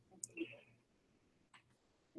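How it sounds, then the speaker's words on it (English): A handful of faint, sparse clicks from a computer keyboard while typing in Google Docs, spaced irregularly in an otherwise quiet room. "So I'm going to type some words here."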